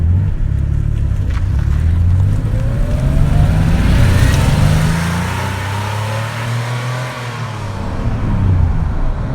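A 1987 Porsche 911 Carrera engine revs and pulls through the gears, heard from inside the car with windows up, the tone rising and falling as it accelerates, loud and continuous.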